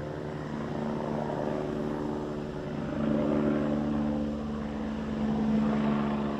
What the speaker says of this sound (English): I do hear a helicopter.